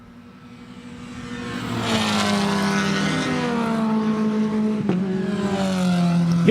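Several Mazda Miata race cars roar past together at Lime Rock Park, three abreast toward the start-finish line, engine drone swelling from a distance into a loud, sustained pass with a falling pitch near the end.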